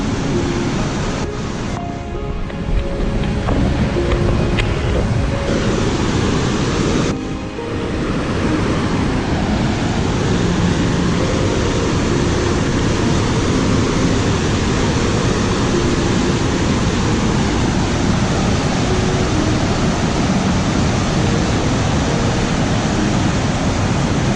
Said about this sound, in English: This is a lot of moving water.